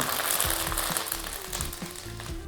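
Curry leaves crackle and sizzle steadily in hot oil while tempering urad dal for masala upma, a dense, close frying hiss with small pops throughout.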